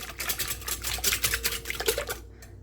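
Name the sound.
whisking eggs by hand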